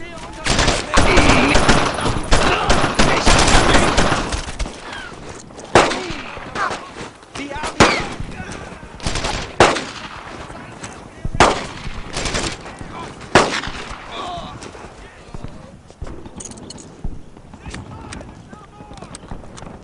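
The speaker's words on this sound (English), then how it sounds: "Those are Navy guns! Our boys must be landing soon!" Heavy naval gun artillery fire in a World War II shooter, Brothers in Arms 2, booms and explosive blasts landing in irregular bursts, loud and close at first, then spaced, fainter thuds with rumble between shots.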